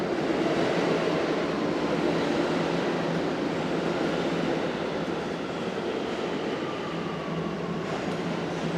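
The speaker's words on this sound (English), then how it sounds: "Oh, there's a train." A New York subway train rumbling through a station, a loud, steady roar of wheels on track that holds for several seconds, with a brief high squeal near the end.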